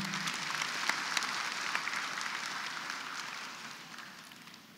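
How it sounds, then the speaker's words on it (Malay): Audience at a university campaign launch ceremony gives a round of applause, dense clapping that is fairly distant and gradually tapers off. "Berikan satu tepukan gemuruh."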